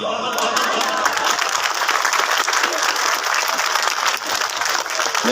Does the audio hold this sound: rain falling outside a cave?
no